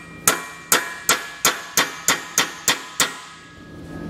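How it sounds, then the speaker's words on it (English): A hammer strikes a metal tab on the bumper beam of a 2019 Toyota Prius during a Curt trailer hitch installation, nine sharp ringing blows at a steady rhythm, close and loud. "take a hammer, and pretty straightforward here, we're just going to bend that nice and flat"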